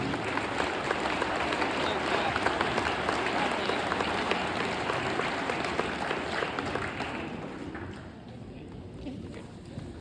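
Sustained applause from an audience at a high school boys basketball all-decade team ceremony in Hale, Michigan, steady dense clapping with crowd noise that tapers slightly near the end.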